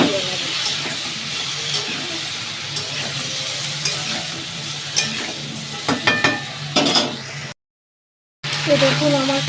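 Cauliflower, potato and drumsticks sautéing in a pan with a ground green chilli, ginger and cumin paste, a continuous close sizzle with scraping stirs and clatters, a brief dropout near the end.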